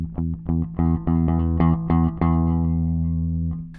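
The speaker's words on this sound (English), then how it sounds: "So I've just gone from a mute to a full-on resonant string with my pick." Bass guitar string picked with a pick, starting palm-muted in short choppy plucks and opening into full, sustained ringing notes, loud and close with no talk.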